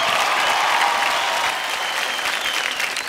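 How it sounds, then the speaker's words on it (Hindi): Studio audience at a televised dance competition bursts into loud, sustained clapping and cheering, a dense wash of applause that fades slightly toward the end. "कम ऑन गाइस, जोरदार तालियां राजस्मिता के लिए"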